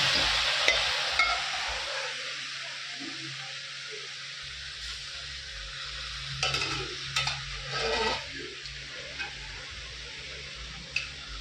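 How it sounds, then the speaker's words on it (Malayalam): Cooked giant squid is stirred into a hot pan, giving a soft, steady sizzle broken by scattered clicks and scrapes of a utensil against the pan, with no talking. "അപ്പോൾ നമ്മുടെ വേവിച്ച കണവ നമ്മൾ ഇതിനകത്തോട്ട് ഇടുവാണ്."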